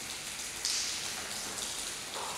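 Rainwater leaking through the ceiling of a post office drips and spatters steadily into puddles on the floor, a constant dense patter with a brief louder splash near the start.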